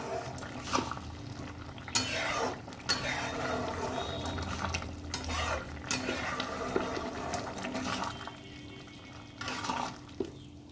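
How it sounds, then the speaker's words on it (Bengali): A vegetable curry with beans, drumsticks and peas simmers in a pot while a spoon scrapes and knocks against the sides at intervals, close and moderately loud. "এখন ঝোল একদম ফুটে গেছে, সবজিগুলোও সব সেদ্ধ হয়ে গেছে।"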